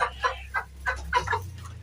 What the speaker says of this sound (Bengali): এই যে হচ্ছে 21 ডেজ পাকিস্তানি মুরগি পাকিস্তানি